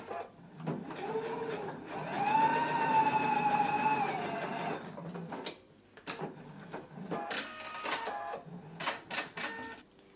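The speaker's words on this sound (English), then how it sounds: "First, let's do the basting stitch." A sewing machine runs a long basting stitch on pants fabric, one steady motor whir for several seconds, then shorter bursts of stitching and clicks.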